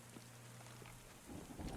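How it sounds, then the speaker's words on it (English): Video game storm on an island, with steady soft rain hiss and a low rumble of thunder swelling near the end, fairly faint and without speech. "You have rain. also a thunderstorm."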